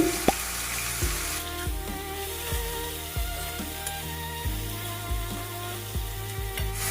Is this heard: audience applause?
no